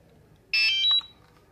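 DJI Mavic Mini remote controller beeping when switched on, a single short bright electronic chirp of about half a second, close and clear against a quiet room.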